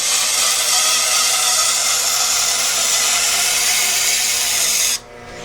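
A knife being sharpened to a convex edge, producing a loud, continuous abrasive grinding hiss like a powered belt or wheel that runs steadily for about five seconds and then cuts off abruptly.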